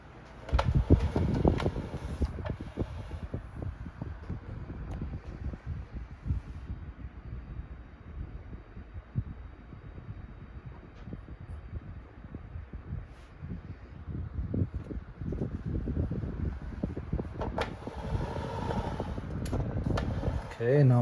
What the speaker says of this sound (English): You can probably hear the fan now, but it's still really quiet.